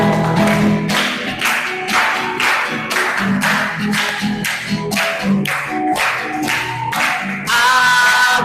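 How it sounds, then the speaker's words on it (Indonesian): A group of people clap their hands in a steady rhythm at a church gathering, with loud, even beats repeating throughout. "Ayo semua tepuk tangan yuk."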